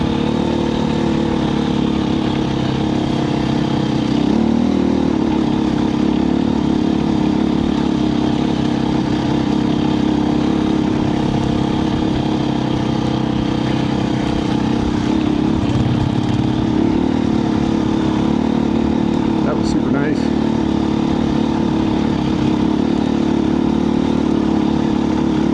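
A 2024 KTM 350 EXC-F dirt bike is ridden across silty desert sand, its four-stroke engine and exhaust droning loudly and continuously close by, with slight revving swells and clatter throughout.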